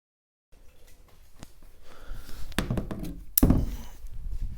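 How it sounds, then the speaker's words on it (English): Compound bows, a Hoyt RX5 and a Mathews V3 31, loosed through a chronograph: a dull thunk and a sharper snap stand out over steady close rustling and handling noise. "let me shoot both of these bows through the chrono"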